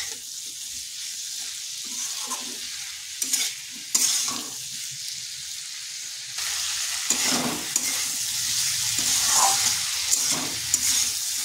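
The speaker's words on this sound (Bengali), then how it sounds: "এটা একটু সময় ধরে কষিয়ে নিতে হবে।" Taro curry sizzles and is stirred in a pan, with soft frying hiss and occasional scraping stir strokes that swell louder in the second half, no talk.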